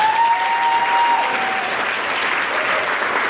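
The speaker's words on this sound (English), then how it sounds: "Let's give her a round of applause." Audience applause at the 2021 Miss Owasso pageant, a dense, steady wash of clapping from a large crowd that holds loud and even for the full stretch, with a faint sustained tone running beneath it early on.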